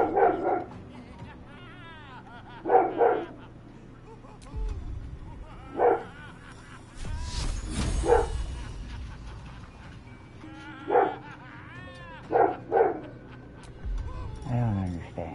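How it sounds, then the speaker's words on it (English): Dog barking outdoors: repeated sharp barks in short clusters, close and loud, with low rumbling noise and a person talking between them. "He's usually better about not barking like this outside"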